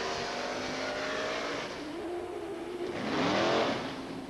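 Loud engines roar at a 1993 New York State firefighter drill in Hempstead, a continuous roar that swells near the end, with no talk over it.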